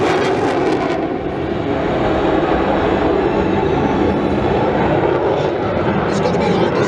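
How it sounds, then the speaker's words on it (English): Fighter jet flying past at an airshow, a loud, sustained broadband roar of jet engine noise that holds steady, with a voice commentating over it. "Fighter that you see flying now began design in the late 1960s,"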